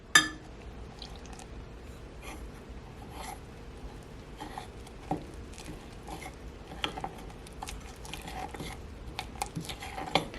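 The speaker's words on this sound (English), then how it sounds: "I want to stir just until a batter forms" Milk is poured and a spoon stirs blackberry cobbler batter in a bowl, giving a steady wet scraping with small irregular clicks and taps close by. No one speaks.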